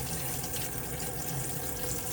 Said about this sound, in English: you will then have water coming through